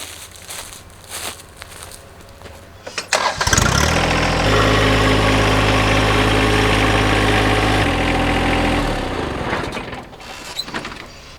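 A 1970 Chevrolet C10 pickup engine cranks briefly, catches and settles into a loud, steady idle nearby before being shut off, leaving quieter background afterward.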